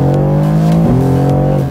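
Deep, loud exhaust growl from a Mercedes-AMG GT R engine, held steady and close with a brief pitch shift midway, as if between revs.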